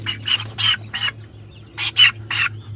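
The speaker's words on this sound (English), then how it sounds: "we let the big chickens out" Chickens let out of their coop cluck and squawk in irregular bursts, fairly close, with a short pause in the middle and a faint low hum beneath.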